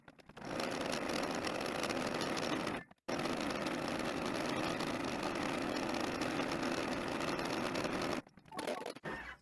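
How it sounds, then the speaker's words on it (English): A computerized embroidery machine sews a decorative bean stitch around a number 3 on a personalized birthday shirt, a steady, close, continuous mechanical whir with brief stops near the start and end. "Now we're ready to stitch the decorative bean stitch that's going to go all the way around the number 3"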